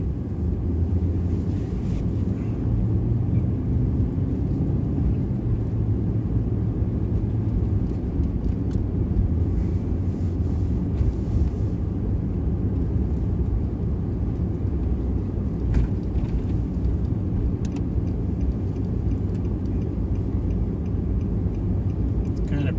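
A car drives along a clear road on a cold morning, a steady low engine and road rumble heard from inside the cabin for the whole stretch, with faint ticks and wind noise.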